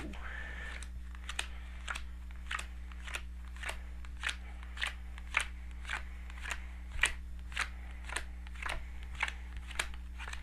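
Playing cards are laid out in a row for a card trick, with a steady series of soft, close slaps as each card lands, set against a low electrical hum.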